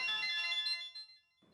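A mobile phone ringtone plays a bright electronic melody, loud and close for about a second, then fades out as a voice starts.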